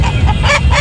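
Poultry clucking and squawking at a hen and rooster bird market, loud and close, several overlapping calls over a steady crowded background din.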